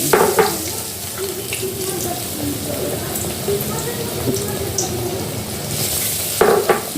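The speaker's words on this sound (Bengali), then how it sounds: "এবার আমি এক এক করে ভেজে নিচ্ছি" Puffed rice battered aubergine fritters fry in hot oil, a steady soft sizzle with occasional clinks and stirring scrapes, plus brief bright bursts as pieces go in near the end.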